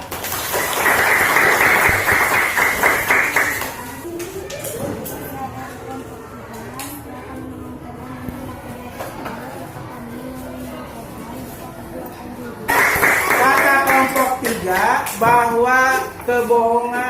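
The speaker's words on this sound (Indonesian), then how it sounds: "Tepuk tangan untuk kelompok 3." Classroom applause for a student group during an Islamic education lesson, a burst of clapping at the start, then a spoken stretch, then clapping swelling again near the end, with voices talking and children chanting in between.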